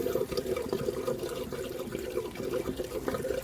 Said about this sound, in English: Took the cap off, and you can hear it gargle,